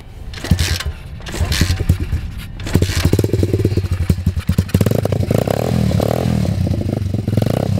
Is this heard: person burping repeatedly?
no